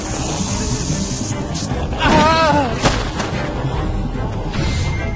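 Gunfire bursts out during a zombie fight in The Walking Dead video game, with a few sharp, loud shots over a busy background, while a player speaks.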